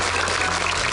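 Studio audience applause on an Indonesian TV quiz show, a steady dense wash of clapping that holds at an even level for about a second.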